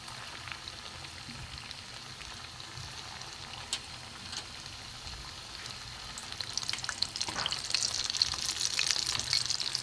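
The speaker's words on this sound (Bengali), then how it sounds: "গ্যাস কমিয়ে কমিয়ে আস্তে আস্তে ভাজতে হবে" Gulab jamun balls made from Gobindobhog rice frying gently in oil over low gas, a steady soft sizzle that swells louder and brighter toward the end, with no voices.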